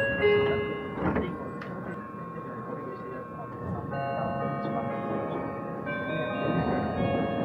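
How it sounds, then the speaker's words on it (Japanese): A Meitetsu limited express electric train to Gifu pulls away from the platform, its low rolling rumble steady under a chime and a recorded station announcement voice. "一番線から電車が発車します。"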